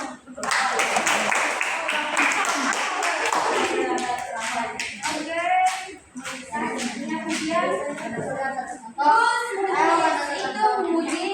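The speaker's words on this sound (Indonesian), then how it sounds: "Tepuk tangan dong." Classroom audience clapping hands during a Palm Sunday children's catechesis, steady applause at first that thins into scattered claps mixed with children's voices and chatter.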